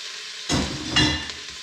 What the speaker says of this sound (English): Onions are looking good. And then we're going to add in our carrots and celery.